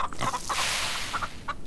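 Farm Together video game chickens, a short flurry of close, moderately loud clucks over a steady hiss of background noise.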